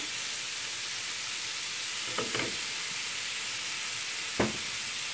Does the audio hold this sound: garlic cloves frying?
yes